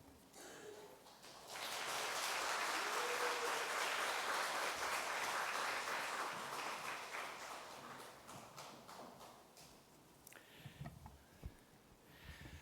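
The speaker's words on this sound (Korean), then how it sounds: "이 시간 교수님 나오실 때 뜨거운 박수로 환영하면 되겠습니다." At a teachers' training lecture, the audience breaks into loud, dense applause to welcome a seminary professor to the stage. It swells quickly, holds for several seconds, then fades into scattered claps.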